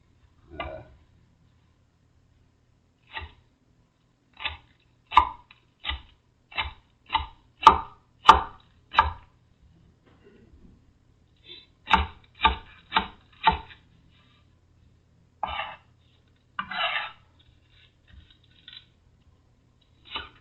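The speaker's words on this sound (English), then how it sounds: "You don't want to cut these quite to the point of mincing" A very sharp knife chops food on a cutting board in crisp close knocks, irregular bursts of single taps and quick runs separated by pauses, with no talking.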